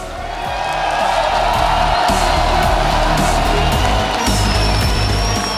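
An esports arena crowd roars and cheers steadily after the EPICENTER 2016 grand final, a dense, loud wash of voices without pause.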